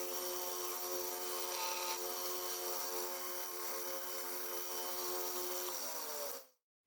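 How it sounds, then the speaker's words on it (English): Sanding along the edges and bolster transitions of a Schrade Old Timer Trapper knife, a steady, continuous abrasive rasp with a tonal whine underneath that holds evenly throughout and then cuts off abruptly at the end. "Now I'll sand the edges near the blade well and my transitions near the bolster as well"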